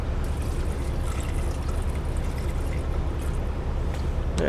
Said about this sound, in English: And we need just a little bit more water.